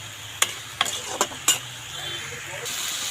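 Vegetables frying in a pan give off a steady sizzle and hiss, broken by four sharp scrapes or clanks of stirring spaced about evenly through the first half.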